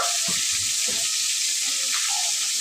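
Tomatoes, onions, salt and chilli powder fry in oil in a pan, giving a steady bright sizzle with a few soft stirring bumps, close and alone with no talking.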